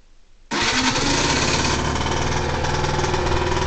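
A Yamaha TZR 4YV motorcycle engine, run on choke with an oversized jet, abruptly fires after a quiet moment and settles into a loud, steady, buzzing two-stroke idle, close by with no talk.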